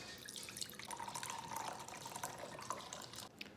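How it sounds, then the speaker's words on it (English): Maker's Mark bourbon pours into a glass with a steady trickling, dripping liquid sound lasting a few seconds, set against a faint background hiss. "grab your Maker's Mark,"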